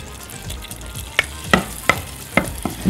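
Minced garlic sizzles in olive oil and a spoonful of butter in a pan, a steady frying hiss broken by several sharp stirring clinks, close up with no talk.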